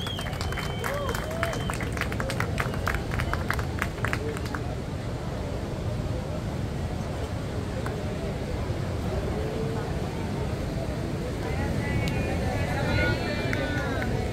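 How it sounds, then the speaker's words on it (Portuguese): Crowd at a surf festival awards ceremony applauds the longboard category champions, sustained clapping and cheering over a noisy outdoor babble of voices. "Uma salva de palmas, categoria Longboard, galera."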